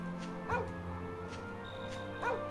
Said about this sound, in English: Why were you running from me, dog?